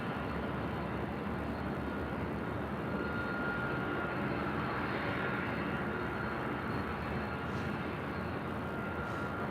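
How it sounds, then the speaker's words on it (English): An Emirates Airbus A380 takes off from LAX bound for Dubai, its engines a steady, loud, broad roar that holds for the whole stretch with no talk over it. "Emirates 37 Victor Super taking off to Dubai on the"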